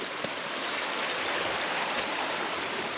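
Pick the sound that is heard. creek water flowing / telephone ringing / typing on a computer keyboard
creek water flowing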